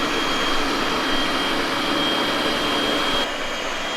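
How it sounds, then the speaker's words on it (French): A robot vacuum cleaner sucking up dust indoors, a loud steady whining roar close by that drops slightly in pitch near the end, with no talk. "comme on peut le voir, il va aspirer la poussière."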